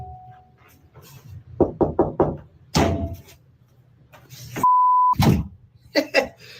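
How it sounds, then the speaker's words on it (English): Four quick, evenly spaced knocks on a door in a house at night, with more knocking and a thud soon after, then a short electronic beep; fairly close and clear over a low background hum. "Everyone's been asking me to try and knock back."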